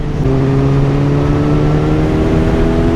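A Kawasaki Z900 motorcycle pulls hard in sixth gear, its engine holding a steady, loud droning tone with slowly climbing harmonics and constant wind rush throughout.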